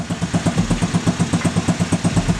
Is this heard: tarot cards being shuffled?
no